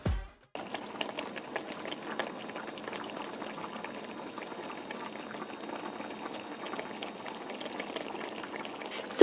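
Spinach liquid bubbles and simmers in a pot as it reduces, a continuous close crackle of boiling with soft popping, alone after a brief noise at the start.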